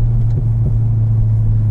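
A 2012 Chevrolet Corvette Z06 rumbles low and steady from close by, its exhaust giving a deep burbling drone with slight wobbles and no talk over it.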